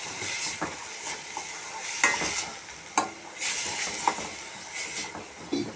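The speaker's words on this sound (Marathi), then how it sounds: "दोन तीन मिनटं छान परतून घ्यायचं" A coconut, coriander, ginger and garlic paste sautéing in a pan, hissing and sizzling with repeated spatula stirs and scrapes at an irregular rhythm, close and fairly loud, without talk.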